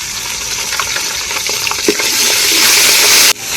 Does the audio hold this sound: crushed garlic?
yes